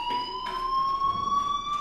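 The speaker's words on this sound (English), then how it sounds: "Hey, do you hear that fire alarm?" A steady, high electronic fire alarm tone rings continuously inside the Life is Strange video game, loud and unbroken with faint pulsing accents and no speech.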